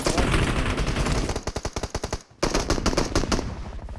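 Rapid automatic gunfire from PUBG Mobile gameplay, loud bursts of evenly spaced shots that break off briefly and then resume in a dense stream.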